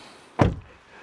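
Togg T10X car door lock actuating inside the cabin, a single short close thunk with a brief mechanical tail, near and fairly loud against a quiet interior.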